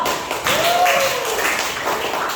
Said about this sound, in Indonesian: Oke, tepuk tangan dulu.